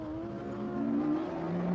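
Race cars approach on a circuit near the final corners, engines droning and rising in pitch as they draw closer, moderately loud with no talk.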